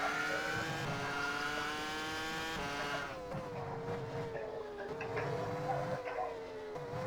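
A Formula One car from F1 Challenge '99-'02 runs laps, its high engine whine holding steady, then dropping sharply and climbing again through gear changes, heard alone at moderate loudness.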